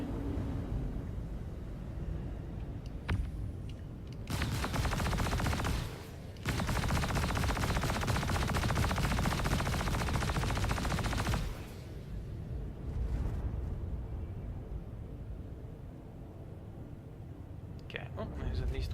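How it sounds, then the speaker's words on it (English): Ship turret in the space game Star Citizen firing in long sustained bursts, a dense rapid rattle of automatic fire lasting several seconds at a time, loud and near, broken by short pauses and rumbling engine noise. "there's at least one turret that's still firing"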